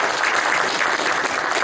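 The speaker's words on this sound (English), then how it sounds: "We're doing lots of clapping" Sustained audience applause fills a meeting room of the Winnipeg astronomical society, dense steady clapping from many hands with no pauses, close and fairly loud throughout.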